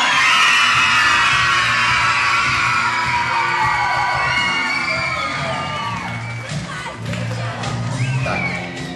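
A large group of children shouting and cheering together at a summer camp, loud and sustained for several seconds, with voices rising and overlapping before fading into scattered calls.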